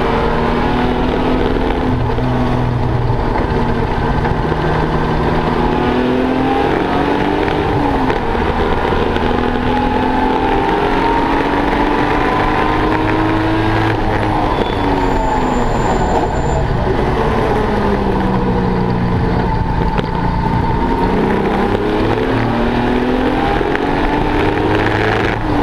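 A Triumph GT6 race car engine drones steadily through a lap of The Bend circuit, its pitch rising and falling with gear changes and corners, loud and continuous from the cockpit.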